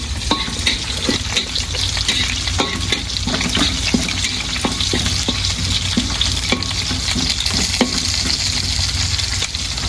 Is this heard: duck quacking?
no